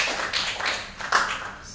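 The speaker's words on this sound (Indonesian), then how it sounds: "kita tepuk tangan dulu" Brief scattered hand claps from a classroom group, a few quick uneven bursts of clapping at moderate level.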